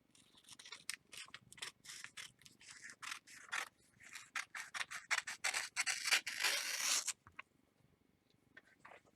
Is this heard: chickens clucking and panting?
no